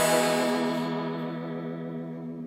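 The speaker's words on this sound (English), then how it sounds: "This is the bubble vibrato effect on the HX Stomp," An electric guitar runs through the bubble vibrato effect on a Line 6 HX Stomp, giving a sustained, wavering chord that rings out loudly and slowly decays with no talking.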